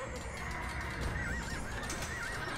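Horses in Age of Empires 2 Definitive Edition, during the Tamar campaign, whinny and neigh several times over a dense, steady battle din with hoof clatter, fairly loud throughout.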